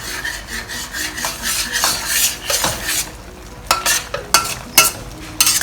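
Cornstarch slurry stirred into a sizzling chilli sauce with prawns and tofu in a wok, with continuous loud frying hiss and scraping, rasping strokes of a utensil against the pan, growing busier toward the end.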